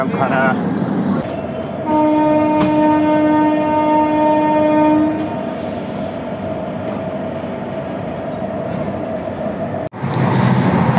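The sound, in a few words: moving train interior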